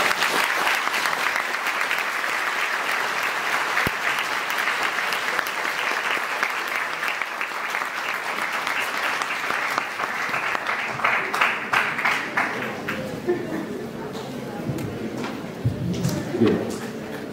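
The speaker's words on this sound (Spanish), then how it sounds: "Reconocimiento al maestro Abel Santibáñez, un aplauso por favor. Caluroso" A lecture audience at a university vocational fair gives sustained, warm applause, a loud dense wash of clapping from many hands that carries on for over ten seconds before thinning out into scattered claps.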